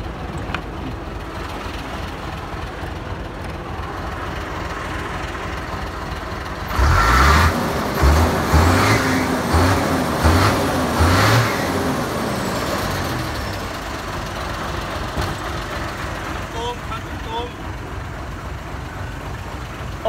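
Modified car with an upgraded injection pump, tuned by a garage, idling quietly before several loud, pulsing revs burst out midway and then settle back to a low rumble.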